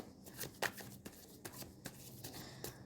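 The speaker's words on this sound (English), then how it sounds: "So let us, okay, shuffle and pick some cards." Tarot cards being shuffled by hand, a dry papery riffle with sharp slaps and clicks as the deck is cut and cards drop, repeating in quick irregular bursts, close and fairly soft with no talking.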